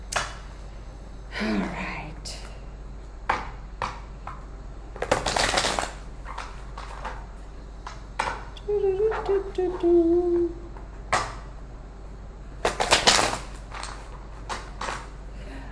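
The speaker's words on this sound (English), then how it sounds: "I'm going to shuffle these cards." Tarot cards being shuffled close by, with a few distinct riffling bursts and soft slides separated by quiet pauses, and someone briefly speaking between them.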